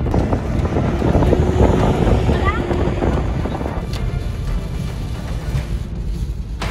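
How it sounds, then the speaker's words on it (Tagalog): Strong wind roars across the microphone at Bakrit Bay in Palawan as waves build and strike the shore during a typhoon, a loud continuous rush that eases slightly in the second half. "Matinding hangin na at unti-unting paglakas ng alon ang humahampas na sa dalampasigan ng Bakrit Bay sa bayan."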